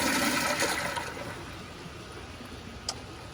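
A 1.6-gallon Kohler Kingston toilet on a wall-mount test stand flushes once: a loud, close rush of water that swells early and then slowly tapers into a softer draining hiss.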